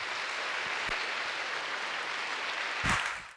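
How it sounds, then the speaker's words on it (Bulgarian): An audience claps throughout a stage event in Bulgaria, a steady broadband patter of applause at moderate level that swells briefly near the end before dropping off, with no talk over it. "Моля за вашите аплодисменти за Саша"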